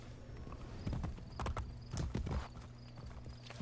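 Horse hooves clip-clop in quick bursts with a whinny in Assassin's Creed Brotherhood, the gallops rising and falling over a steady low game hum.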